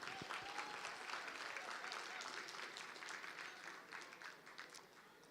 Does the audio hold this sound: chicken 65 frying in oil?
no